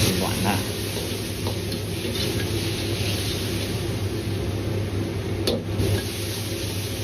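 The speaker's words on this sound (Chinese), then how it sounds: "再放入切得比较薄的西红柿翻炒" Thinly sliced tomatoes stir-fried in a wok with ginger and scallion over medium-low heat, giving a steady close sizzle with faint scraping of the spatula throughout.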